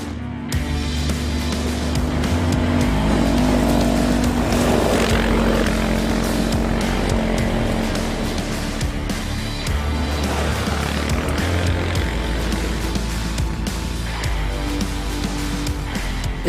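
A 2020 Kymco MXU 550i EPS mid-size quad bike is ridden on a test drive, its engine droning loudly and steadily with rising and falling revs throughout.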